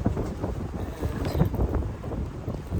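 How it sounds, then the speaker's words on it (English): Steady low, blustery rumble of wind buffeting the microphone, continuous and fairly loud throughout, with no voices. "It's going to be windy"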